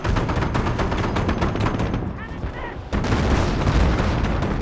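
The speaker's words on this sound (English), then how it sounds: "Auto cannons, 76 millimeters, going off" Dense auto cannon and 76 mm gunfire rattle through a Company of Heroes: Europe in Ruins 3v3 battle on Bastion. Loud, overlapping rapid bursts run nearly nonstop, thin out briefly in the middle, then resume at full strength.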